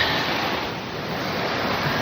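Creek water rushing steadily over rocks along a river trail, a dense continuous wash of noise at close range with no talking.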